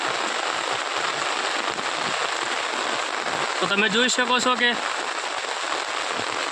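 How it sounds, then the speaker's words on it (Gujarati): A downpour drums continuously on open farmland in Banaskantha during the afternoon, loud and even throughout, while someone speaks briefly in the middle over the rain. "એટલો વરસાદ પડી રહ્યો છે આજે બપોરે 3 વાગે જેવો"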